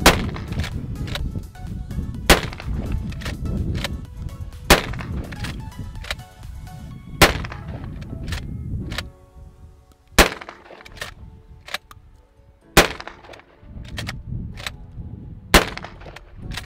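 An Adler A110 lever-action shotgun fires outdoors, about nine sharp, loud reports at uneven intervals over a rumbling background, with lighter clicks and knocks between shots.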